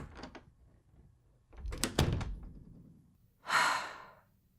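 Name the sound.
door closing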